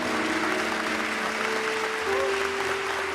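A church congregation applauding the women of the community, a continuous even wash of clapping with a faint sustained tone running underneath.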